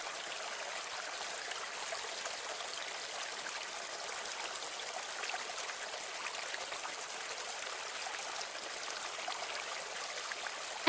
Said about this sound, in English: The water sound effect is a little loud.